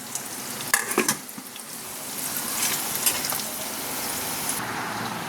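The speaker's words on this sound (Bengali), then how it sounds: "এই যে পেঁয়াজ আর তেজপাতা ফোড়নে দিয়েছি" Onion slices and bay leaf fry in hot oil as a tempering for mutton kosha, a loud close sizzle with a few sharp spatters and utensil clicks early on, then a steady hiss.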